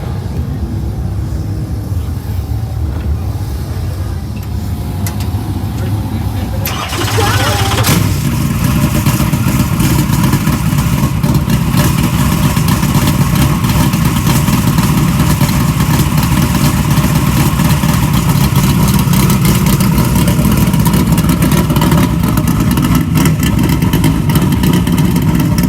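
Race car engines rumble and rev at a dirt track before a heat race, a loud, continuous roar that grows fuller partway through and holds steady.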